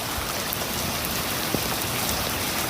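Steady heavy rain falls in a Pakistani village, a dense, even hiss of drops hitting surfaces that stays constant throughout, loud and close with no voices.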